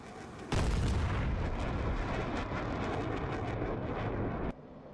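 A 1,000-pound bomb detonates in a flight combat game, bursting in as a loud, sudden boom that holds as a dense, rumbling roar for about four seconds before cutting off abruptly, with no voices.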